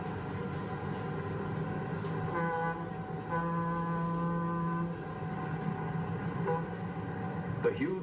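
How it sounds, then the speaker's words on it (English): A 1954 Santa Fe Super Chief train gets under way slowly, heard as a low rumbling drone with sustained tonal horn-like notes rising over it midway, over steady background noise. "The huge locomotive sets the train in motion, slowly at first."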